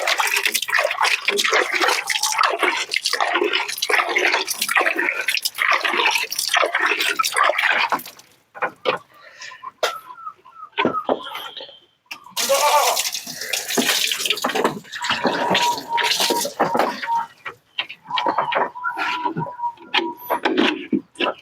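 Water pours and splashes loudly in bursts, stopping and starting with drips and wet slapping sounds in between.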